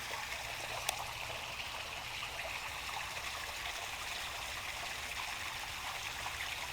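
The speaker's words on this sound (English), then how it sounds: "It's definitely going down a drain." Canal water pouring steadily down a drain or overflow point along the Lancaster Canal, a continuous rushing and trickling wash that stays even and moderately close throughout, with no voices.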